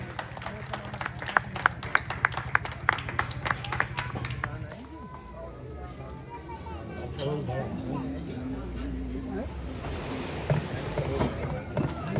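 Audience applause at a Ramlila artists' honour ceremony held at a temple: a few seconds of brisk clapping, then someone speaks over a hall murmur.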